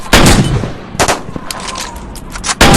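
Gunfire in a shooting video game, loud close bursts: a sharp burst at the start, another around the middle with a few scattered shots, then a final burst at the end.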